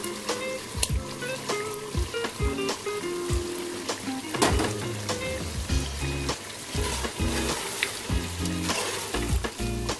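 Onion paste sizzles and fries in hot oil with beef, a dense continuous crackle broken by frequent sharp stirring clicks and scrapes from close by.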